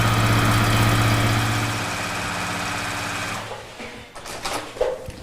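A domestic sewing machine stitches quilt blocks with a loud, steady motor whir and needle chatter for about three seconds, then winds down and stops, followed by a few small knocks and handling clatter.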